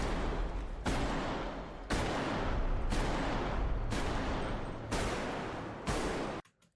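Sustained bursts of automatic gunfire in a first-person shooter video game, loud and dense, shifting in character as the shooter moves from outdoors to indoors, with abrupt changes between roughly one-second stretches before cutting off.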